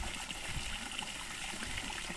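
Stream water flowing on a farm in Itumbiara, Goiás, Brazil: a faint, steady babbling trickle, continuous and close, with no one talking.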